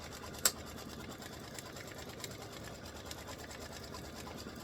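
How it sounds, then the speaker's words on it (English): An embroidery machine runs a fill stitch with underlay on a ribbed Christmas stocking, a steady fast mechanical whirr throughout with one sharp click near the start. "it'll lay down some underlay and start filling in everything"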